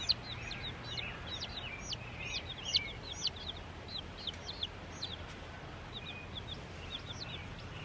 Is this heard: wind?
no